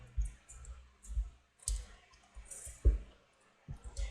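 Computer keyboard keys are pressed during a keyboard test, giving a run of distinct, close, sharp clicks in an uneven rhythm with short quiet gaps between them.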